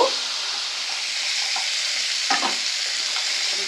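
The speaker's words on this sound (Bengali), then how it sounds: "কাঁকড়াগুলোকে কিন্তু লাল লাল করে ভেজে নেব।" Crabs frying in hot oil for a crab kosa curry give a steady, close sizzle throughout, with a few brief scraping stirs partway through and no talking.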